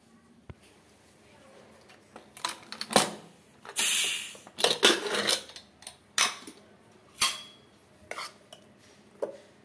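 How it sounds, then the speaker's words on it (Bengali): Metal clanks and clicks of a pressure cooker lid being fitted and locked shut, then set down on a gas stove, coming as a series of sharp, close knocks and scrapes over a quiet kitchen background. "একটু নাড়িয়ে আমি প্রেসারটা বন্ধ করে গ্যাসে বসিয়ে দেবো"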